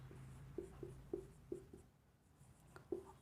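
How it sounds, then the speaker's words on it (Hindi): Pen or pencil writing labels on a cavity wall building drawing, close, with rhythmic short scratching strokes and taps in a regular pattern, a brief pause, then more strokes. "लिखना शुरू करते हैं।"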